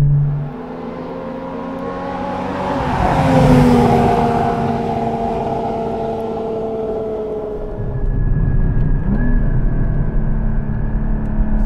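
A Porsche 981 Cayman GT4 engine with a light flywheel revs up through the gears, its rising note climbing loud and close before easing and building again.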